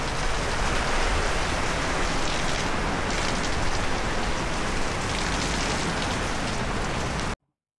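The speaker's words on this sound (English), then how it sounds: "while it's raining like crazy" Heavy rain pours down outdoors during a sudden storm, a dense, loud, unbroken hiss of drops on surfaces lasting over seven seconds before cutting off abruptly.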